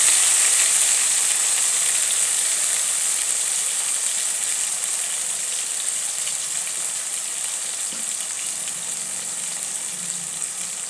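Spices for a kofta curry sizzle in a hot pan, a steady bright hiss that eases slightly over time, close and continuous with no talk.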